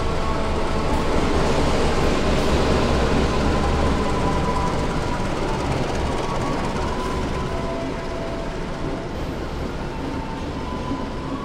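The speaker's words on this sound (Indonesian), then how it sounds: "yang segera tiba ini adalah kereta Singasari dari Pasar Senen tujuan Blitar" A Singasari passenger train pulls into the station in a loud, steady rolling rumble of wheels and carriages, close by, gradually easing slightly in intensity with faint squeals near the end.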